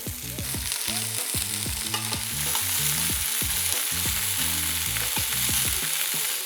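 A wagyu steak searing on its second side in a hot pan, a steady bright sizzle beneath a low, tonal musical backing.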